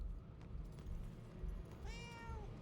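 A cat meows once in the game Murdered: Soul Suspect, a clear, rising-and-falling call heard near the end over a low game ambience.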